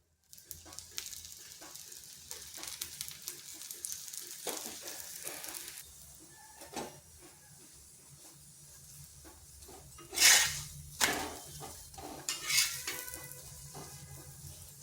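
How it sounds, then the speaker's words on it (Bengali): A semolina and egg snack fries in a little oil, turned from side to side. A low, steady sizzle runs under intermittent scraping and stirring, with a few louder clatters of utensil against pan near the end. "সামান্য তেল দিয়ে এপাশ ওপাশ ভেজে নিচ্ছি।"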